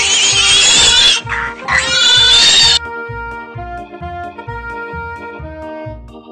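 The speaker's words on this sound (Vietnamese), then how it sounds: "Con lợn." Pig oinking in a children's animal-sounds learning clip: two loud, harsh squealing grunts over a bouncy backing tune, after which the music continues alone.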